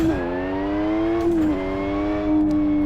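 A flat-six engine revs in the Live For Speed racing game, a steady loud harmonic drone with rising and dipping pitch, briefly easing near the middle before holding high again.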